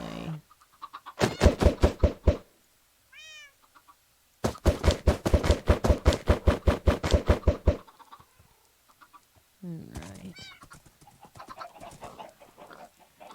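Blocky hens clucking in Minecraft, with bursts of rapid repeated clucks in two loud runs, a short rising squawk between them, and further softer clucking near the end; one brief spoken word.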